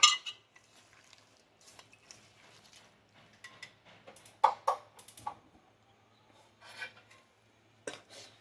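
Goat brain mixed by hand with salt, turmeric, chili, coriander and cumin powders in a bowl: soft intermittent rubbing and squelching with light clinks of a utensil against the dish, fairly quiet with brief pauses.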